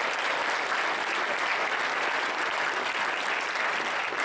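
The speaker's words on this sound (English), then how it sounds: "Let's give you all a round of applause as well." A crowd at a university hackathon opening ceremony applauds returning participants, with steady, dense clapping that holds evenly for several seconds without voices over it.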